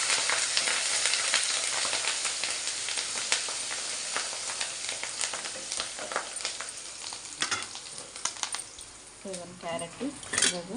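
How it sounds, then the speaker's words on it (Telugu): Curry leaves fry in a tempering of oil for a festive tamarind rice, crackling and spitting close by with scattered spoon scrapes and clinks against the pan, fading toward the end. "కరివేపాకు కూడా వేసేసి పోపు అయితే రెడీ"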